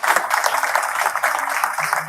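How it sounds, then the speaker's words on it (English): Dense audience applause at a corporate certification celebration, a steady wash of many hands clapping close by, alone and sustained for about two seconds. "So a huge round of applause for"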